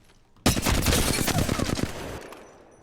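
Sustained automatic fire from the Flatline rifle in Apex Legends, a rapid burst of sharp shots lasting about two seconds, loud and close, trailing off into a short echo.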